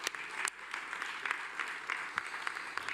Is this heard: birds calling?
no